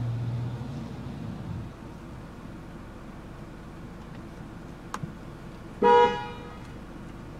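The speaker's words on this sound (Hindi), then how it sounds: "बॉश का हॉर्न है इसका" A single loud Bosch car horn blast from a 2007 Mercedes C180, about half a second, bright and harmonic, over a steady low background hum with no talking.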